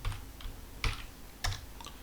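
A few sparse keystrokes as a password is typed on a computer keyboard, close and crisp with short gaps between presses and no talking.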